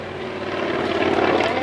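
A vintage airplane dives low toward the treetops at an aerodrome to cut a ribbon, its propeller engine a loud, sustained drone that swells slightly as it nears.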